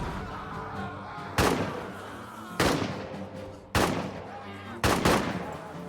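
Four heavy blasts of gunfire and explosions in a WWI trench-warfare video game, evenly spaced and loud, each with a rumbling tail, as troops suppress an enemy position and throw a hand grenade.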